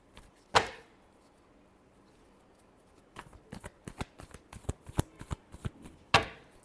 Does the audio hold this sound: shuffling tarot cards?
yes